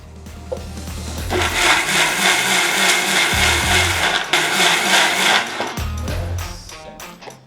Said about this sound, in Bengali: এখন আমরা এটা ব্লেন্ড করব সামান্য পানি দিয়ে এটা ব্লেন্ডারে চলে গেল